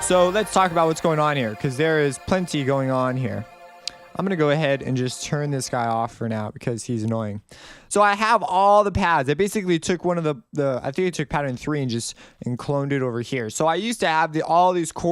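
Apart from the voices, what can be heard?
No distinct noise like a dog, phone or traffic.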